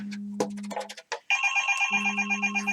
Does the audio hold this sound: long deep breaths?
no